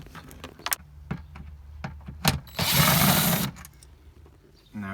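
Phillips head screws being undone from a dashboard panel under the steering wheel of a Volkswagen Rabbit Truck, heard as close clicks and taps, then a brief burst of power-driver whirring.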